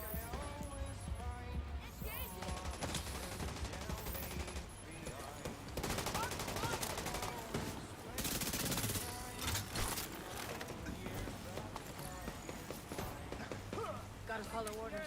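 Shotgun blasts and rapid gunfire boom repeatedly in a Division 2 firefight, loud, dense bursts mixed with other game effects while a player talks over the action.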